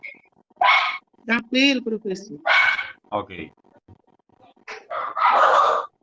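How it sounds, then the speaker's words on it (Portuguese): A dog barks angrily in several loud, sharp barks and yips, close by and irregular, with people talking in between during an online class. "agora o cachorro agora ressuscitou agora com raiva"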